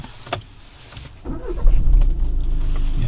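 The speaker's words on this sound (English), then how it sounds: "Switch the car on." A car is started for a driving test, a short starter crank followed by the engine catching into a low steady idle, heard close up inside the cabin after a few small clicks.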